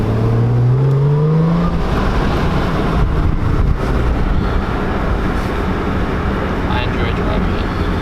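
A 2011 Audi S4 with a six-speed manual revs up to around 3,500–3,800 rpm, the engine note rising then holding as a loud, wind-buffeted drone close to the microphone.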